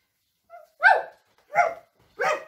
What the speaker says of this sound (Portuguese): Um cachorro felpudo.